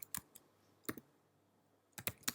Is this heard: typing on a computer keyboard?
yes